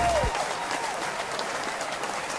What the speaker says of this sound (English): Oh, I just love all that applause.